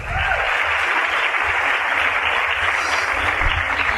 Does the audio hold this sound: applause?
yes